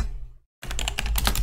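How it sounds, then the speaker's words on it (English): Close, rapid keystrokes on a computer keyboard typing echo commands, a brief silence, then a dense run of clicks. "Let me demonstrate this by typing two echo commands."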